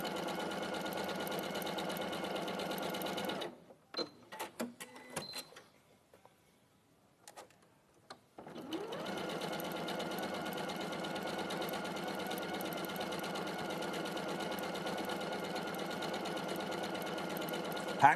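A sewing machine stitches along a line with its needle centred, running in a steady, close mechanical whir. It falls quiet for a few seconds with scattered small clicks, then starts up again and runs evenly to the end.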